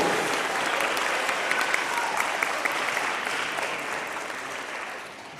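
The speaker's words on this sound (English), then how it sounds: "let's give a big round of applause for our Iron Eagles" A crowd applauds a school team at a middle school seventh-grade athletic awards ceremony, with dense, steady clapping filling the room and easing off toward the end.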